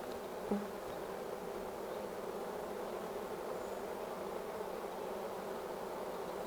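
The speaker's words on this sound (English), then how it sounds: "Calm bees." Steady, dense buzzing of many honey bees at a hive during an inspection, a soft continuous hum with no voices, heard from close by.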